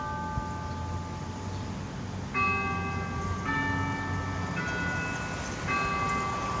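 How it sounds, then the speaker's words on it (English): Church bells ring out at noon over a church in Springfield, New Jersey, struck in repeated bright tones roughly every second and a half above a low, steady outdoor rumble, moderately distant with no talking. "Let's pause a moment while the bells ring noon."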